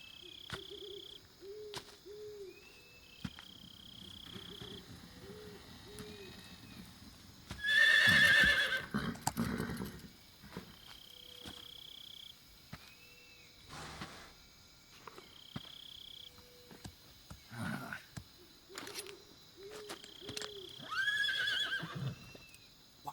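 A horse whinnies loudly in the middle of Metal Gear Solid 3: Snake Eater gameplay, amid owl-like hoots, clip-clopping hooves and crickets, with a few softer calls later.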